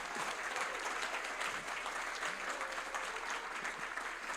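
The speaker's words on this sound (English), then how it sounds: "Can we just do one more round of applause for all of our first-time attendees at the annual?" An audience at an annual early-career recruiting conference claps for first-time attendees. The dense, even applause is sustained and fills the whole stretch without pause.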